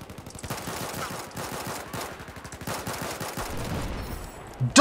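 Rapid pistol gunfire in Battlefield 4, a dense run of sharp shots over several seconds, loud and close, ending in a louder burst.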